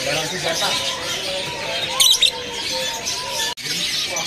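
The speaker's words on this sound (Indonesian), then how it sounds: "di sini juga ada burung anis kembang trotol ya" Spotted thrush (anis kembang trotol) at a bird market, giving short chirps with a brief brighter call midway, set against background chatter and other caged birds.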